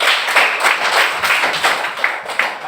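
Classroom students clapping together in a short burst of dense, fairly loud applause that carries on for a few seconds, with no talking over it.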